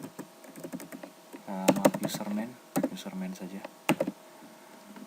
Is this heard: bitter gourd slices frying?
no